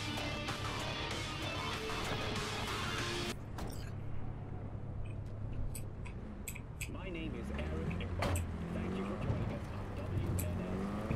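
A car in Cyberpunk 2077 drives along with a steady engine hum and road noise while people talk over it throughout.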